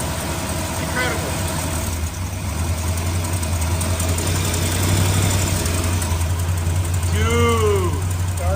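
An old Mopar barn-find car engine idles with a low, steady rumble and faint knocking, while people talk nearby over it.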